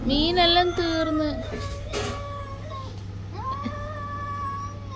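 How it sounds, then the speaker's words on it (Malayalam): A wild jungle cat yowls near domestic cats while they eat, giving drawn-out wavering cries and growly moans with short pauses between them. A person speaks briefly in between. "കണ്ടം പൂച്ച എന്തോ ചീത്ത പറയുന്നു."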